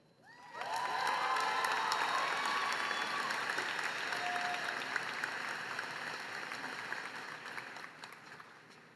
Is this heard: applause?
yes